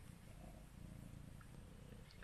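A cat purring close by, a soft, steady, low rumbling purr that continues evenly throughout with no talking.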